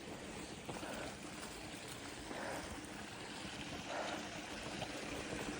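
Water runs steadily from a spigot at an Appalachian Trail campsite, a faint continuous splashing wash with slight swells, heard alone without voices.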